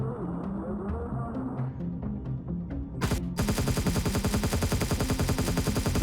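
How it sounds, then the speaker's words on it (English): Rapid gunfire and explosions in the Empyrion video game, with scattered booms at first and then a dense, continuous volley of rhythmic shots under a steady background hum. "that was just explosions in the background there"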